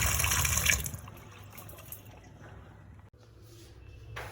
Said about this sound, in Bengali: এবার এই মাছগুলো ধুয়ে আমি তুলে রাখি